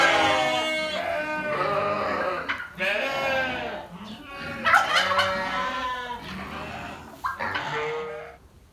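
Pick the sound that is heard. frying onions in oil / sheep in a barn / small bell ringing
sheep in a barn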